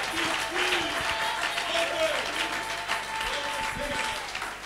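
A church congregation applauds and acclaims Jesus, a steady wash of clapping from many hands with crowd voices mixed in throughout.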